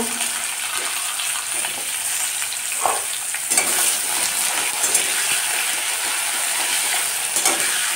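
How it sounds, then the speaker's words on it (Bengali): Diced potatoes fry lightly in oil with asafoetida, giving a steady close sizzle broken by a few stirring scrapes and clinks. "আলুটা দিয়ে এবার আলুটাকে একটু হালকা ভেজে নেব"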